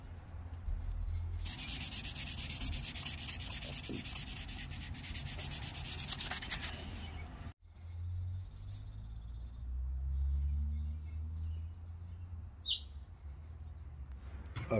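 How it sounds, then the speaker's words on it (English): Steady, close rasping strokes of hand sanding on wood while shaping a handline slingshot, with a brief pause midway before the rubbing resumes; faint bird chirps sit in the background. "A little bit more hand sanding."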